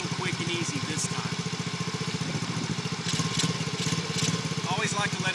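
A four-wheeler ATV engine idles steadily while warming up, a continuous low rumble with a regular pulsing throb that stays close and fairly loud throughout, with faint background noises over it.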